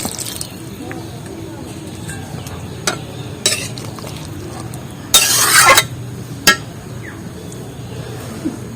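Warm water hits a pan of sizzling yam curry, giving a short loud hissing burst midway over a low frying crackle, with a few stirring clinks around it and a voice speaking underneath.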